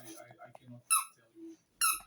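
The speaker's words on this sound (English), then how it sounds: "With this squeaky toy." A dog's squeaky toy gives two sharp, high squeaks close by, following a stretch of someone talking.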